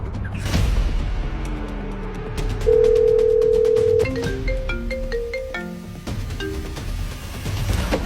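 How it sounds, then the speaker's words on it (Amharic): During a phone call, a steady electronic tone sounds for over a second, then a quick series of stepped beeping tones follows, clear over a low background hum. "የፊጋው ስልክ ነው?"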